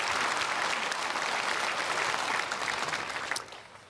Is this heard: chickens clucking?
no